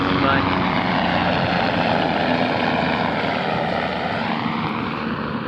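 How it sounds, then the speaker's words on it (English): A plane passes overhead near a beach, a steady broadband engine roar that holds loud and even throughout, with no talk over it. "Plane passing by."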